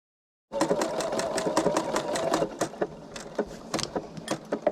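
Home sewing machine stitching a Christmas sampler quilt block, running in a fast continuous whir at first, then breaking into short separate bursts of stitches, close and clear.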